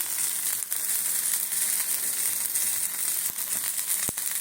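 Previously used frying oil poured into a dry pan sets off a steady, fairly faint high hiss of sizzling, dotted with a few sharp crackles and pops, with no voices.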